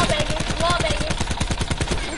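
Rapid automatic gunfire from a video game shooter, fired through a wall, rattles in a fast, steady burst of evenly spaced loud shots, close and continuous across the clip.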